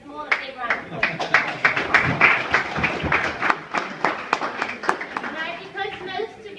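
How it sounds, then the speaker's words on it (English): Audience applause at a whiskey taste-test demo in the Jameson Distillery, Dublin: a small crowd clapping close and steady, dense rapid claps throughout with some voices and cheers mixed in. "Give them all a big round of applause."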